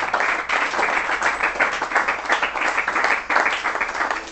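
A church congregation claps and cheers together in a dense, steady wash of applause that swells in waves and carries on throughout.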